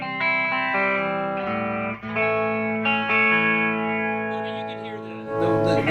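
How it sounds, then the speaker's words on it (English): Electric guitar chords run through a mild chorus effect pedal, shimmering sustained tones ringing out one after another, alone with no talking. "just a mild chorus"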